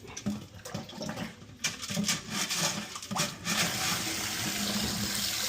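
Dirty aquarium water gushes and splashes steadily during a fish tank cleaning, starting in uneven surges and then settling into a continuous rushing flow.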